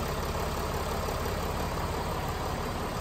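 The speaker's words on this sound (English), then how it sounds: "As you can hear, the car ticks over beautifully." Mercedes ML350 engine idling smoothly, a steady even hum with a low rumble that holds constant throughout, close up and with no voices.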